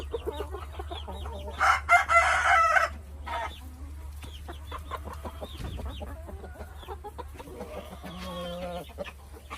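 Young chickens in a backyard chicken range cluck and chirp continuously nearby, with a short loud crow early on and scattered calls over a steady low hum, no talk heard.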